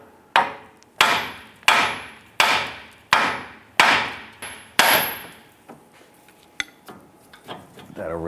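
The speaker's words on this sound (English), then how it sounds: "and we're going to strike here." A hammer strikes the steering knuckle of a 2002-2008 Dodge Ram 1500 to release the outer tie rod: six or seven loud, ringing metallic blows at a steady pace, each decaying, then a few lighter clinks.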